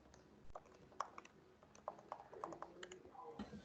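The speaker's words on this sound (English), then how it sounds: "all I'm doing is typing in my statements and hitting enter" Someone types statements on a computer keyboard and presses enter, producing a quiet, irregular run of soft clicks and key taps with a few sharper strikes, close by and with no talking.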